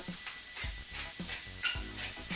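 Cabbage and andouille sausage frying in olive oil in a pan, a steady hiss with repeated scraping stirs at a regular rhythm, close and moderately quiet.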